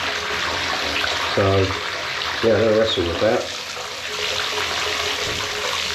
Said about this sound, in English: So fill your bath up, okay?